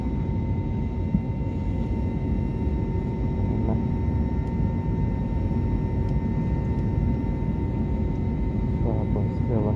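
Steady low engine drone and cabin air hum fill a parked Philippine Airlines airliner as passengers disembark, with faint chimes and clicks over the constant rumble.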